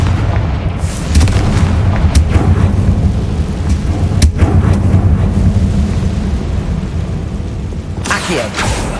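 A Confringo spell explosion in the video game Hogwarts Legacy, a deep rumbling boom with a long roaring tail, loud and close, joined by sharp crackling impacts and a brief burst of noise near the end.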